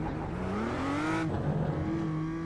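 Virtual BMW M2 CS race car at Thruxton in iRacing, its engine revving up through a rising tone, briefly dropping at a gear change, then pulling steadily again, loud and close.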